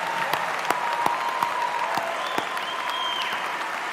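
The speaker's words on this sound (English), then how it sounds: "Give yourselves a round of applause." A graduating class of 2023 applauding at an undergraduate business and STEM commencement ceremony, steady crowd clapping with a few sharp nearby claps and faint whoops.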